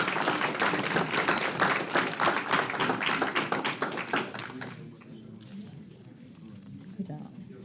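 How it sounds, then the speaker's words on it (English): An audience at a school board meeting applauds students with a burst of brisk, dense clapping for about five seconds, then it tapers off into quiet room noise while a voice speaks over it. "Let's give them a big round of applause."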